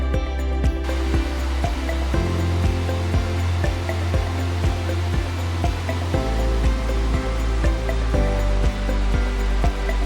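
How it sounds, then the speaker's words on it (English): Shiraito waterfall in Karuizawa, Nagano pours with a steady, dense roar of falling water, constant and close throughout, with faint clicks and bumps near the recording point. "This is Shiraito Waterfalls."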